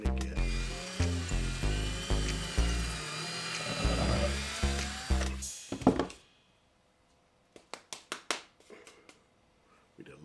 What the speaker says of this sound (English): We did a longer drill bit.